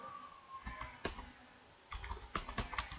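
Keys clatter on a computer keyboard in short bursts of quick, light clicks, close and fairly quiet, with a pause in the middle while a formula is typed into a spreadsheet.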